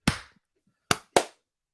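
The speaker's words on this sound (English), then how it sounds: "So here's edit point clap number 2." Three sharp, close hand claps used as an edit marker for a podcast recording: a single clap, a pause, then a quick pair, each crisp and isolated against silence.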